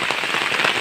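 Heavy storm rain pours down in a dense, continuous roar, drops pattering hard on nearby surfaces with no pauses.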